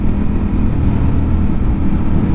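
A Ducati Panigale V4S motorcycle engine drones loud and steady while riding, a dense low rumble mixed with heavy wind buffeting and no clear revving peaks.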